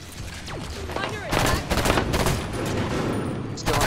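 Rapid video-game gunfire during a team flag match, bursts of automatic shots and single cracks crowding together over about four seconds, loud and close with brief lulls, while players talk faintly underneath.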